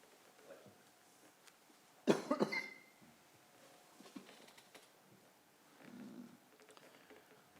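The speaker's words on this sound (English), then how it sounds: "the cough starts" A single burst of coughing, a few rough hacks in quick succession, in an otherwise quiet room with faint background noise.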